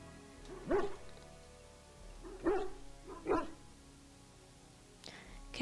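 A Mabari war dog in Dragon Age: Origins gives three short barks spaced about a second apart, moderately loud and close, with a quieter game sound near the end.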